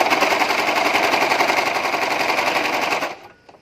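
An electric sewing machine stitches a princess cut nighty in one continuous rapid whirring run, loud and close, then stops abruptly near the end.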